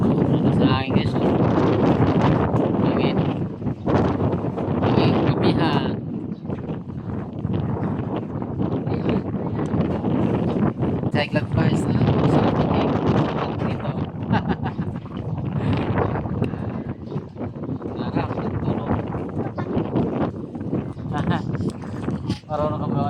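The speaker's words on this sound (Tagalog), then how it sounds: "Hangin, kamihan." Strong wind buffets a small bamboo-outrigger boat (bangka) at sea, a constant loud roar and rumble across the mic, with people talking over it throughout.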